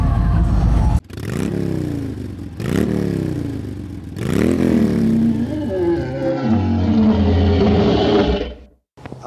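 Scooters ride past at the Americade motorcycle rally in America, engines loud and close, revving up in three rising surges one after another before a longer, rougher drone that cuts off abruptly.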